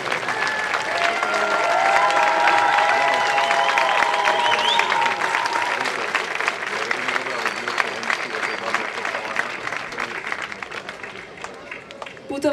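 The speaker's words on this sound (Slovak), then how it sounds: "Poprosíme ešte jeden obrovský potlesk." An audience at the Akademická Nitra 2016 folklore festival in Nitra gives a large, sustained round of applause, dense clapping that fills the hall and slowly thins out, with some tonal sounds mixed in early on.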